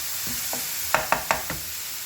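Onions fry over medium heat in a little oil in a pan, a steady sizzle under a few quick clinks and scrapes of stirring near the end.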